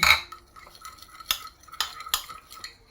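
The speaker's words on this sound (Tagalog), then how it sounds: "Kaya hahaluin natin to siya." A spoon stirs beef liver in oyster sauce, scraping and clinking against the pan in a few uneven strokes, close and moderately quiet with a faint sizzle beneath, no talking.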